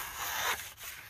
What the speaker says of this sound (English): We'll start off with the fine edge here and just do a cut.